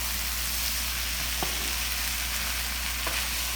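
Vegetables and rice sizzle steadily in a hot pan as a stir fry, with a constant frying hiss and a couple of soft scrapes of stirring.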